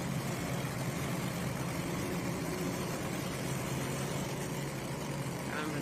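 Diesel super stock pulling tractor engine idling at an NTPA Grand National tractor pull in Rockwell, Iowa, a steady low rumble with broadband crowd and arena noise throughout, loud and continuous.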